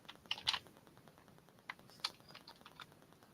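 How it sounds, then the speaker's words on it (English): Short, irregular bursts of keystrokes clatter on a computer keyboard, close and fairly quiet, with a few sharper taps between softer clicks. "Let me type it."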